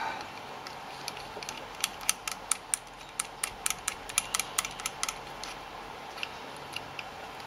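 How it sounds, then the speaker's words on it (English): Bolt with a nut being screwed in by hand on a homemade milling machine, giving a quiet irregular run of small metallic clicks and ticks over a steady background hiss, close and faint, with no talk. "Screw that bolt in there."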